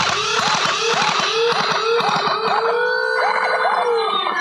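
A modded full-auto Nerf Regent blaster with a high-torque motor fires, its whining motor rising and falling in rapid repeated cycles as darts launch in quick succession, loud and close.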